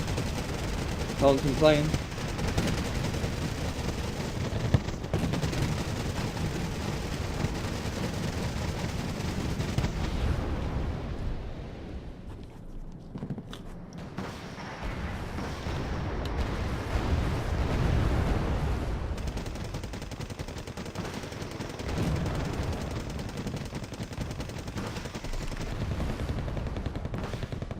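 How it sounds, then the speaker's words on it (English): Autocannons fire in the Wargame Airland Battle game as distant, rapid gunfire and booming bursts roll under a steady battle rumble, with a commentator's voice speaking briefly over the noise. "he has the autocannons going off"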